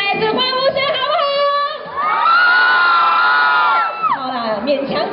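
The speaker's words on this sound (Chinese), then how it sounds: "再来一次欢呼声，好不好？" A crowd of fans at a promotional event in Kuching shouts and cheers in two loud bursts, the second one a sustained roar of high, excited voices before fading.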